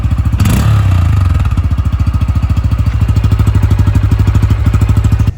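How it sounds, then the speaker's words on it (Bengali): A Bajaj Pulsar N160 motorcycle's exhaust gives a brief rev early on, then settles into a loud, close, steady idle thump with an even rapid pulse. "তো এক্সজস্ট নোটটা আপনাদেরকে একটু শোনা দিতেছি"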